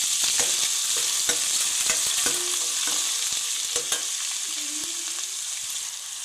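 Onion frying in hot oil with ginger garlic paste in a kadai, a steady close sizzle over several seconds, punctuated by frequent sharp clicks and scrapes of a stirring spoon, without voices.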